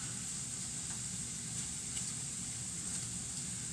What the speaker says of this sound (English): Try and get the kielbasa down on the pan so I can get kind of a good sear on it.